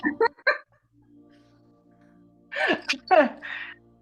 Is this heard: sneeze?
yes